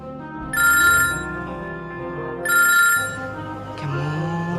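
Telephone ringing in repeated bursts while a call is placed, a clear electronic ring pattern with short pauses between rings, loud and close, with background room sound and no talking.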